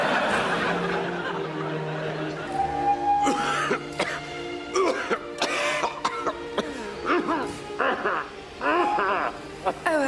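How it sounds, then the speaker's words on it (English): A man coughing and clearing his throat in a comedy sketch, several rough bursts scattered through the passage, mixed with spoken talk and light chuckling. "If only I could shake this blasted cough."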